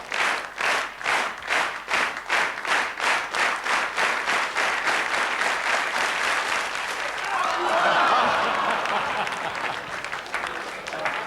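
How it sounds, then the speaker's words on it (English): Studio audience clapping in unison at a steady rhythmic beat during a 1995 BBC sports review show, loud and close, then breaking into a fuller, looser burst of applause with some cheering toward the end. "let's get this clapping going"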